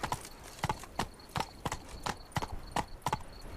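Roach's hooves clip-clop in The Witcher 3, an even walking rhythm of crisp, close strikes about every third of a second.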